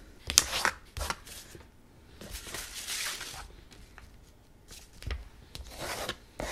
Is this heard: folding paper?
yes